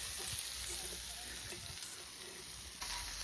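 Tandoori chicken coated in butter and a little oil sizzles steadily at a farm cookout, a continuous close frying hiss with faint crackles throughout.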